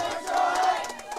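A crowd at a youth bowling nationals event lets out a brief loud collective shout, voices blending into a sustained cheer that fades within about a second.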